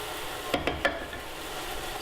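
Vegetables sweat in a hot pan for a quick tomato pasta sauce, a quiet steady sizzle with a few brief sharp clatters of stirring near the middle.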